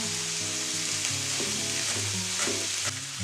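Meat and leek sizzle and crackle in a hot pan, with a constant frying hiss and occasional brief stirring scrapes up close.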